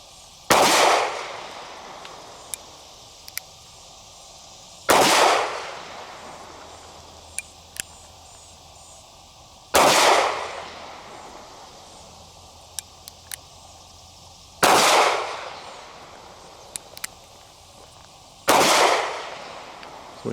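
Five loud gunshots from a North American Arms Pug .22 Magnum mini revolver, spaced about every five seconds, each a sharp crack with a long ringing tail, plus faint metallic clicks of the gun between shots and no talking.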